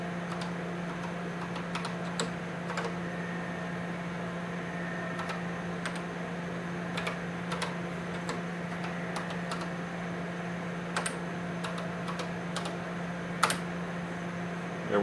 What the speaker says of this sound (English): I'm typing left-handed, so it's a little bit slow.